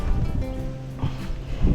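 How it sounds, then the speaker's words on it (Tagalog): Strong outdoor wind buffets the microphone in a steady, loud low roar, swelling in gusts near the start and end, with a faint sustained hum running underneath and no voices. "malakas yung hangin"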